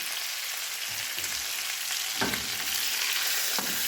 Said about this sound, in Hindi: और इसको भी हम फ्राई कर लेते हैं